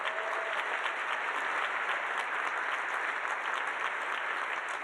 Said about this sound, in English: Please give them a round of applause for their partnership with us today.